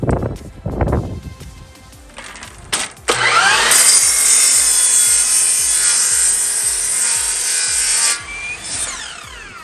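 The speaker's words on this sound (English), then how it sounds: "Cutting some wood at night for a project" Wood being cut at night for a DIY project with a power saw: a loud, sustained whining cut lasting several seconds after a few knocks and handling sounds, close by, then winding down.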